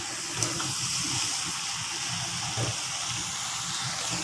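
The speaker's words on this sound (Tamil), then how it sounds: "கொஞ்சம் தண்ணி ஊற்றும்." Water pours and gushes into a pan during the cooking of Mee Goreng fried yellow noodles with fish, a steady splashing flow heard alone and fairly close with no talk.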